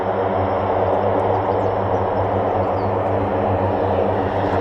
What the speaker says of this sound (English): that Hercules has got to be taxiing out, hasn't it? That is so loud.